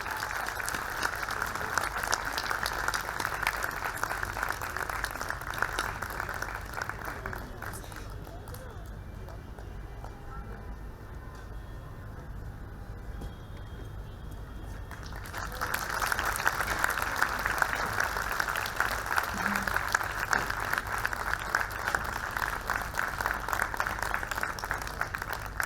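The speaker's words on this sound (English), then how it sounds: "Can we have a big round of applause for them," A large literary festival audience in Jaipur applauds as two speakers are welcomed onto the stage, with broadband clapping that fades to a quieter stretch and then swells again to a steady, sustained ovation.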